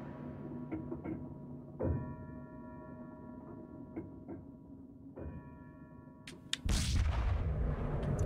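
Gunshots in the video game Red Dead Revolver, a handful of sharp cracks spaced apart over a quiet, tonal game backdrop, ending in a louder burst of fire.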